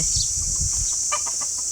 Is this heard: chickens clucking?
yes